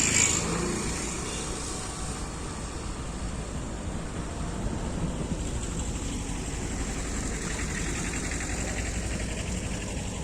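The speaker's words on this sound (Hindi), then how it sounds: "यहाँ पे काफ़ी सारा ट्रैफिक आ जा रहा है, तो उसके शोर के लिए मैं आपसे माफ़ी चाहता हूँ।" Road traffic passing beside a wide green belt in a residential sector, a continuous broadband rumble of engines and tyres with a louder vehicle at the start, fairly near and steady throughout.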